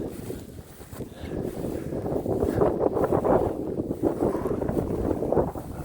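Strong gusting wind outdoors beside a small frozen pond and marsh during deer season in Pennsylvania, loud rumbling buffets hitting the microphone, rising and falling in waves across the whole stretch.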